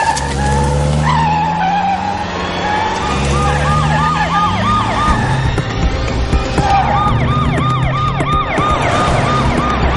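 A police car in a Malayalam film chase wails its siren loudly and repeatedly, joined by screeching tyre skids and roaring engines.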